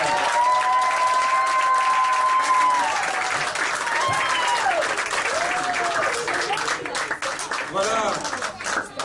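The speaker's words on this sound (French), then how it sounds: "quand on va ouvrir le rideau, on va vous applaudir" Sustained loud applause from an audience at a school end-of-year show, with voices calling and cheering over the clapping throughout.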